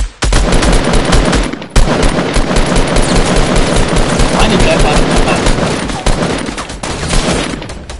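Gunfire in a shooting video game: loud, sustained bursts of rapid automatic fire that go on almost without a break, with a short gap early on and faint talk mixed underneath.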